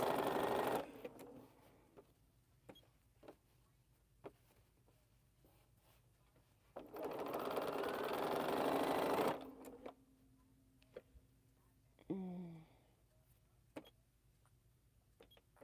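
A sewing machine runs in two short bursts of steady mechanical whirring, quiet ticks and clicks between them, then a brief rising whine near the end.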